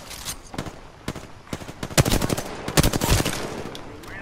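Gunfire in the Apex Legends video game crackles in separate bursts of rapid shots, some short and sharp, others longer rattling strings, growing louder and denser toward the middle, with no talking.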